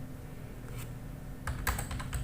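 Keystrokes on a computer keyboard while entering a Google search for a pesticide information system, a few light taps early then a quicker burst of clustered clicks near the end, close and alone with no talk.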